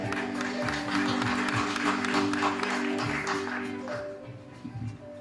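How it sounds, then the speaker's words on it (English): Applause from an audience at a safety officers' launch event as a colonel arrives, a dense patter of clapping close and steady before tapering off, over a faint hum and a few voices. "You better clap so hard for Colonel Mgweba as he comes."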